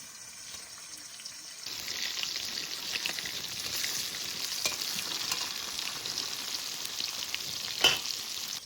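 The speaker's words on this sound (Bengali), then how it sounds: "মাছের নিচ পিঠ ভাজা হয়ে গেছে, এবার উল্টিয়ে দেবো।" Flipped hilsa fish fries in mustard oil, a steady close sizzle that jumps louder after the turn and keeps crackling evenly, with one sharp clatter near the end and no voices.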